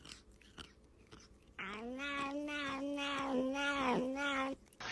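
A cat lets out a long, loud, wavering yowl lasting about three seconds, preceded by quieter scuffing sounds, then a clatter right after.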